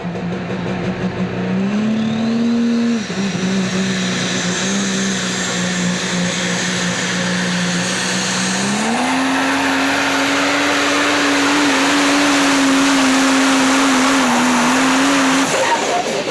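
A super stock diesel 4WD truck at a truck pull holds a loud, steady engine roar that climbs in pitch as it revs, then drops briefly before surging higher and staying strained near the end, with no voices.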